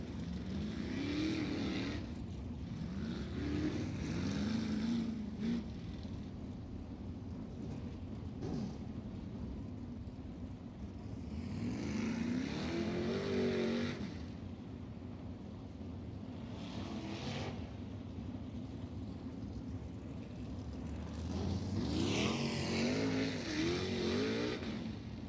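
USAC sprint cars roar around the dirt oval at Volusia Speedway Park, engines swelling and fading in repeated passes with a constant rumble between them, moderately distant.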